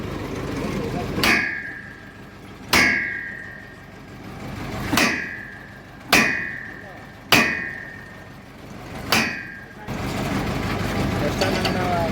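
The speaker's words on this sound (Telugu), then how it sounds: "చూడండి అలా కొట్టగానే ఈజీగా తిరిగేస్తుంది" Metal hammer striking a bore pump pipe to loosen its threads: six sharp ringing clangs at a slow, even pace, each decaying with a metallic ring, followed by quieter handling noise.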